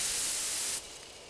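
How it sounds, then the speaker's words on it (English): A sprayer spits a sleep drug called night-night toward a bee hive in Spirit Hunter: Death Mark: one steady, loud hissing burst that lasts a bit under a second, then cuts off into quieter room noise. "I take careful aim and spray the drug."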